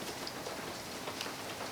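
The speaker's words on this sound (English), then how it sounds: "it's actually starting to rain outside, so you can kind of hear it on the roof" Rain falls steadily on a roof outside during a quiet indoor session, a faint, even hiss with soft scattered patters and no voices.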